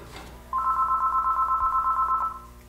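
A telephone bell rings once in a sustained, trilling burst of nearly two seconds, loud and close over a steady low background hum.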